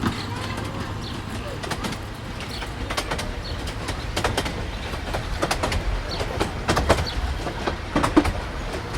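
A miniature park railway engine rumbles along steadily with repeated clickety-clack and clanking on the rails, while a person talks over it throughout.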